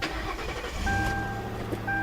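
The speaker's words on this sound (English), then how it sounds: "That's how it starts." A 2005 Ford Crown Victoria LX Sport starts up close by: a brief cranking burst catches into a steady, loud idle that holds to the end, with thin high tones from the car's chime above it.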